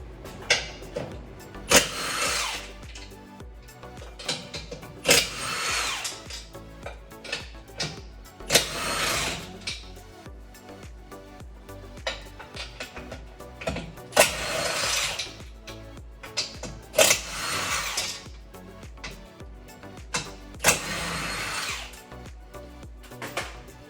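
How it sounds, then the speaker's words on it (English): A power tool with a 15mm deep socket spins out the bumper bolts on a Tesla Model 3, giving repeated short whirring bursts about every three seconds, moderately loud, with quieter handling noise between them. "We're going to use a 15mm deep socket."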